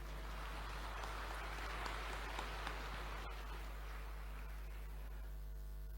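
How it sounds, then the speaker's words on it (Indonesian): An indoor audience at a university graduation ceremony applauding for the graduates' parents, a soft, even wash of clapping from across the hall that holds steady throughout and fades slightly near the end, with no speech. "mari kita berikan aplaus yang tulus bagi seluruh orang tua yang ada di sini"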